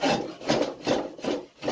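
A spokeshave rasps along a wooden axe handle in four steady back-and-forth strokes, close and fairly loud, with no talking.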